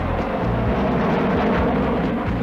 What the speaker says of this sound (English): The F-2 demonstrates the Tornado's short takeoff.